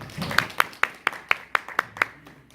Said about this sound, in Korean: 큰 박수로 한번 환영해 주세요